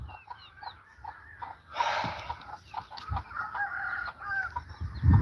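Farm chickens cluck and squawk close by in a short burst of overlapping calls, with a louder flurry in the middle and scattered bird chirps around them.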